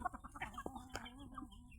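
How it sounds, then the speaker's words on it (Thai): Chickens cluck and chatter together at a temple yard in Lampang at dusk while being given their evening feed, a steady mix of overlapping soft calls with a few sharper clucks close by. "ให้ทุกท่านได้รับชมน้องไก่ กินข้าวกันนะ"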